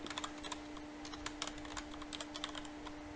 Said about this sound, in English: So I'll just go ahead and type that in.